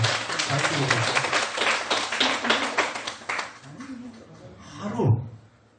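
An audience claps at a Buddhist temple Dharma talk, a steady round of applause lasting a few seconds that fades out, followed by a short voiced sound.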